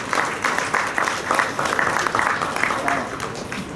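A crowd claps for a man named Amit at an all-India invitation carrom tournament, steady mid-level applause lasting a few seconds with a faint hum of voices underneath.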